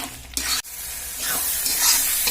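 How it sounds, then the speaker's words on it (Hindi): Masala spices roast in a pan for jackfruit kofta, with a sharp clatter and brief drop early on, then a building sizzle and scraping stir that grows louder toward the end; no voices. "इनमें हम ई मसाला सारा डाल दी छिए ताकि सब एक साथ भुनेते। अब सबका हम तब तक भूनेंगे जब तक खुशबू नहीं आवे।"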